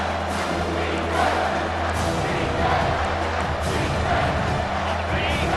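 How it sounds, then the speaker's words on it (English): Stadium crowd noise in College Football 25 during a red zone defensive stand in a playoff game against Clemson, a dense sustained roar that swells in waves beneath a commentator's voice. "This crowd is trying to inspire this defense to make a big red zone stop."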